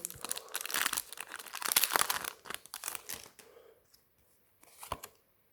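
A Pokémon card booster pack from a Rebel Clash set is torn open up close: crisp crinkling and tearing foil wrapper in bursts, with quieter rustles and a last crackle before silence.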